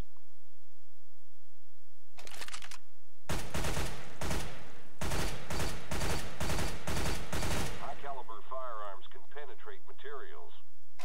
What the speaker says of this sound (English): Fire in short, controlled bursts.